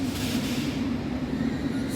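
A London Underground train heard in a station, a steady low rumble with a strong hum, moderately loud and continuous, with no talking.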